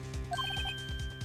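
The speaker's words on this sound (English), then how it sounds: "I heard a phone ring just now." A phone ringtone plays in the Phoenix Wright: Ace Attorney video game, a quick series of bright electronic beeps over a looping, rhythmic background music track.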